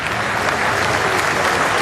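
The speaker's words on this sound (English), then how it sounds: "Tom Blundell will walk off to applause and appreciation from his home ground" A home cricket crowd applauding a batsman leaving the field during a New Zealand versus England test match, loud and sustained, dense and continuous.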